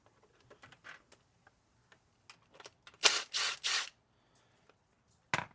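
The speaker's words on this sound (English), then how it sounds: "So what you want to do is use a wrench that isn't powered," Hand wrench working loose the oil filter on the right side of a BMW G650GS motorcycle leaned over on its stand: quiet scattered metallic clicks, then a few louder rasping turns in a short cluster and one final scrape.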